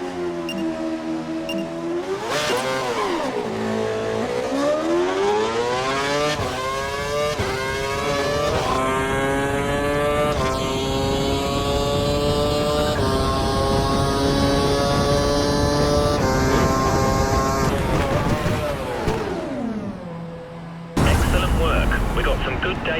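Formula One car from the F1 2012 racing game accelerating hard past 160 mph, its high engine whine climbing through repeated gear shifts, loud and continuous, with a brief change in tone near the end.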